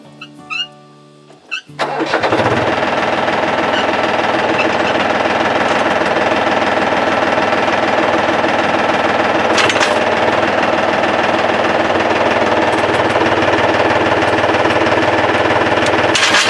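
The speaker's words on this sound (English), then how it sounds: "Alright, I got it hooked up to the tractor. Let's give her a pull" Tractor engine roars up after a short quieter start, then runs loud and steady with a rough, knocking mechanical clatter as it drags a homemade chain brush grabber across the ground.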